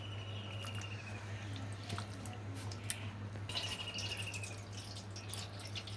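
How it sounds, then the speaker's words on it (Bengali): Water drips and splashes sporadically while a batter of mung dal and wheat flour is washed and strained, with soft irregular drops and squishes over a low steady hum. "একটু জল পড়ছে এখানে এভাবে করে কিন্তু অনেকবার ধুইতে হবে"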